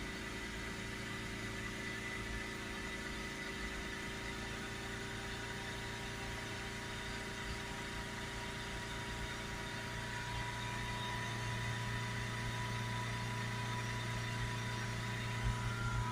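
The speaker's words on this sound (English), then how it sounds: "Let's hold the revs up. 3000 RPM." A Honda CR-V 1.6 diesel engine runs at steady, elevated revs around 3000 RPM during DPF cleaning, a constant mechanical drone with a faint rise in pitch near the end; quiet, with no talking.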